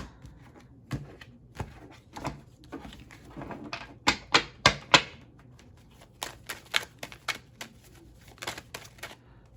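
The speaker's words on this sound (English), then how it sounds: "All right, let's cut the cards, y'all." A deck of cards is cut and shuffled up close, with crisp riffling flutters and sharp snapping taps coming in quick bursts, loudest in the middle and steady to the end.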